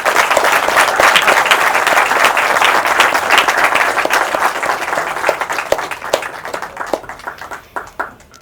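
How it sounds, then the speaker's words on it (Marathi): Enthusiastic applause from a seminar audience, loud and dense at first, then thinning into scattered individual claps toward the end. "जोरदार टाळ्या."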